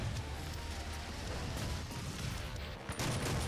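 Super shotgun blasts and loud combat noise from the video game Doom (2016), a dense, continuous barrage of booming fire and explosions filling the whole stretch with a brief dip near the end.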